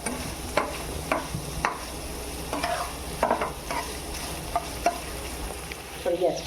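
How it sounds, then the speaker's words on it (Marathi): Paneer frying in hot oil for matar paneer, a steady close sizzle with repeated scraping stirs of a spoon against the pan throughout. "असं तेल टाकून तळून घ्यायचीच असते तिला पनीर"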